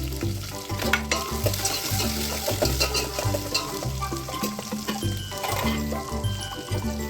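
Onions and green chillies sizzle loudly in hot oil with mustard seeds and are stirred. The frying hiss is continuous, with a spoon scraping the pan in an irregular rhythm.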